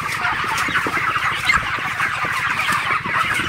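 A shed full of broiler chickens in hot weather clucks and chatters continuously, a dense, loud, busy flock sound with many overlapping calls close by.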